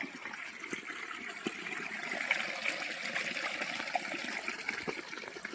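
Water runs steadily at Parameshwari temple in Honnavar, a soft, continuous trickle and splash nearby, with no voices over it.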